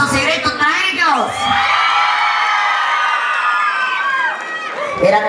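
Loud crowd cheering, whooping and shouting at a jaripeo rodeo event, sustained and dense throughout with voices of men and children mixed in, no clear applause claps standing out.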